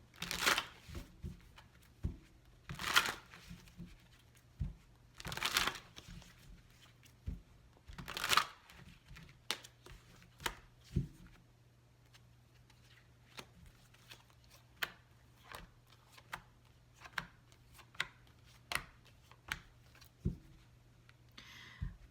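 Tarot cards are shuffled in several quick riffling bursts, then softer intermittent taps and slides of cards being handled, close and quiet with no talking.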